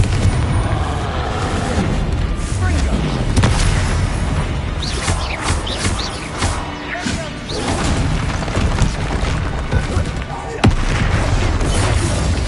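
Bombarda blasting spells exploding in Hogwarts Legacy, loud booming blasts and crashing impacts layered densely over continuous game action and music, several bursts across the stretch.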